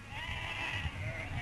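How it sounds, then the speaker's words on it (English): Sheep bleat continuously and faintly in holding pens as they wait their turn for the sheep dip. A flock sound drones steadily, with a low rumble underneath. "The sheep are driven into pens where they wait their turn."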